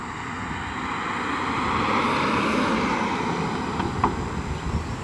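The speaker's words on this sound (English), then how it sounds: "We're going to drive to 60 and brake as hard as we can with the Regen braking" An MG ZS EV accelerates and then slows under hard regenerative braking, heard as a steady rising whir of motor and road noise with wind, fairly loud and continuous, with no talking.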